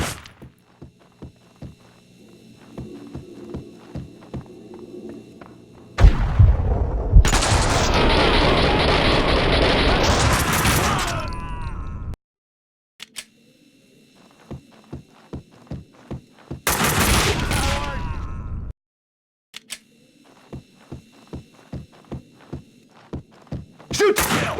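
Bursts of gunfire from Max Payne 2 with a rhythmic train of sharp single shots, broken by two long, loud sustained roars of automatic fire and brief silent gaps, close and dominant with no talking.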